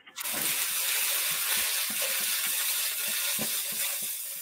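Oil sizzles steadily in a wok while fresh pasta is cooked, a continuous close hiss with small crackles and pops scattered throughout, no talk over it.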